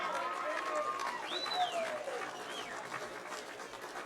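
Applause and crowd noise for the Premiers' captain at a first grade grand final presentation, a sustained wash of clapping with whistles and cheers over it, moderately distant.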